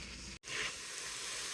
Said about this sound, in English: I am browning some ground beef right now, which is pretty frozen